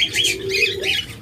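Pet budgerigars and lovebirds kept in pairs for sale chatter with short, bright chirps and warbles, close and moderately loud, with no talking.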